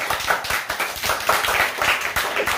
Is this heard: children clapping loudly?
yes